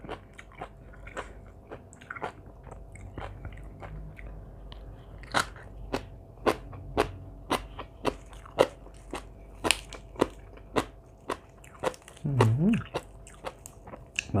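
Loud, crisp crunching bites and chewing repeat at a steady pace while som tam made with raw shrimp and salmon is eaten up close, alongside brief background voices.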